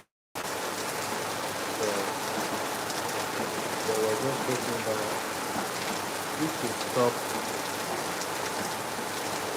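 Steady rain pours down in Lagos after hours of continuous falling, a dense even hiss with scattered drops striking surfaces close by, while a person talks over it.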